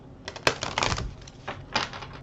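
Archangel Raphael oracle cards shuffled by hand, a close, quick burst of papery riffling clicks over about two seconds, with no talking.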